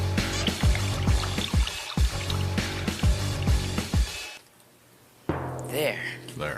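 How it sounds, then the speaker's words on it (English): Water poured into a taped column, heard as splashing and filling sounds under a narrator's voice and background music, followed by a short quiet gap and then more liquid and music. "Now fill it up with water"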